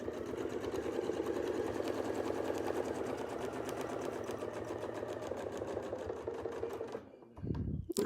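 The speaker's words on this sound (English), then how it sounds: "So let's just sew." A sewing machine stitches steadily along a Westalee ruler in a fast, even mechanical rhythm that runs close and continuous for about seven seconds, then stops with a short clatter.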